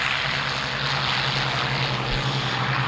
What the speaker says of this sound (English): Are those Spitfire airplanes?